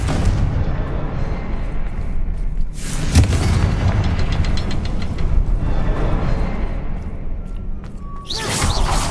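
A Confringo spell in Hogwarts Legacy sets off loud, booming blasts: a heavy crash near the start, then rumbling impacts with crackling debris and a fresh burst at the end, no talking.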